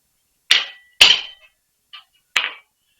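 A hand chisel with a small edge fence is tapped to mark a chisel line, giving three sharp, close metallic strikes and one lighter tap, with short silences between and no voices.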